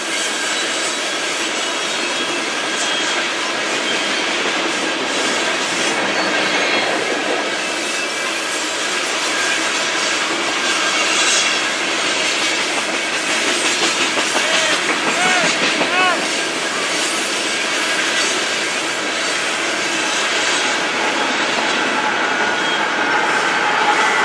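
A freight train with a CP AC-44 locomotive passing at Titlow Beach, a steady loud rolling roar of wheels and cars with metallic squeals and rattles, continuous and close for the whole stretch.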